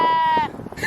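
A single loud, close sheep bleat from free-roaming sheep in a field near Stonehenge. It holds steady for about half a second, then gives way to quiet outdoor ambience.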